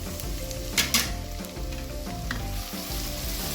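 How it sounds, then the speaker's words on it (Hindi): Crushed ginger, garlic and green chili sizzle and crackle steadily in hot mustard oil close by, with a few sharper spits and stirring sounds. "इसको झट से फ्राई करना है इसमें ऑयल में।"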